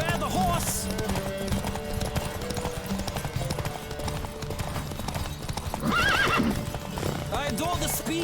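Galloping horses thunder through a race in The Witcher 3, hoofbeats pounding continuously while a horse neighs loudly in several bursts, near and prominent over game music and speech.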